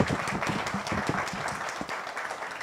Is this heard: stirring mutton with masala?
no